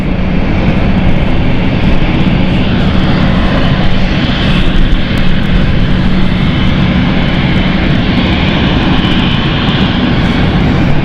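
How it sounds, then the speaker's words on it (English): A very light aircraft at London City Airport, its engine a loud, continuous drone that holds steady throughout with no talk. "We've got a very light aircraft also in the facility of the airport"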